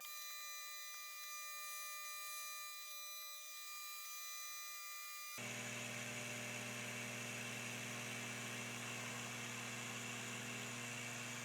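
A Longer Ray5 laser cutter works through half-inch pine with a faint steady whine and tonal hum. The sound thickens partway through into a louder, fuller drone with a fan-like rush.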